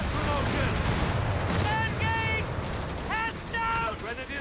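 Gunfire in the World War II strategy game Company of Heroes 3 thuds and cracks in dense, overlapping bursts, with whistling tones and clipped soldier voice lines layered over the battle noise.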